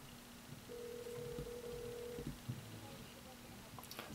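Ringback tone of an outgoing phone call to a diner, heard through Ghostek SoDrop over-ear Bluetooth headphones: a single long, faint, steady tone lasting about a second and a half over low hiss, followed by quiet background.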